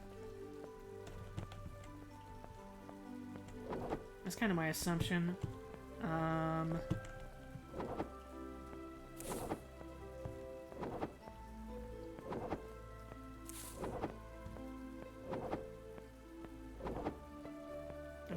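Steady rain patters across the scene in the video game Mask of Mists, with occasional thunder-like rumbles and game effects. Someone speaks briefly over it.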